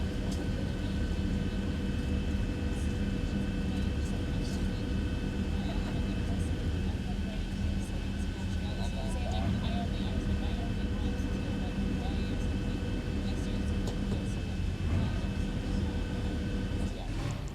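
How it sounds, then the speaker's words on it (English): Steady low whir of Boeing 737 hydraulics in the X-Plane 12 flight simulator, a continuous mechanical drone with faint tonal lines humming evenly throughout under the cockpit engine noise, while someone speaks. "You can hear the hydraulics."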